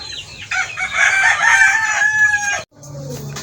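Gamefowl roosters crow loudly and close by, one long strained crow followed by a shorter call after a brief pause, with some clucking mixed in.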